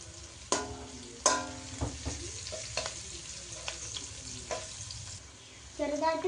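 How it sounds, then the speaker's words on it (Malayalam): Onions fry in a pan for a mushroom dish, a soft continuous sizzle punctuated by a few sharp clanks of a spoon stirring against the pan, close and clear with no talking. "നമുക്ക് ഇച്ചിരി ഇളക്കി കൊടുക്കാം."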